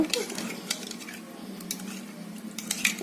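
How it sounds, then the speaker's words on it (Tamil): Banana pieces stirred by hand in turmeric and salt water in a bowl, with close wet clinks and splashy scrapes against the bowl in irregular bursts, no talking. "தண்ணி கலந்து இதை நல்லா மிக்ஸ் பண்ணிக்கலாங்க"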